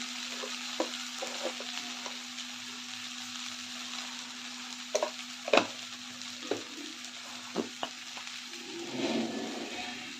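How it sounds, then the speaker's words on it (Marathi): Grated potato fried with peanut powder and rock salt in a pan, a steady soft sizzle broken by scattered clinks and scrapes of stirring, with no talk. "एक दोन चमचे शेंगदाण्याचं कूट घालते सर्व मिक्स करून चांगलं परतून घ्यायचं आहे"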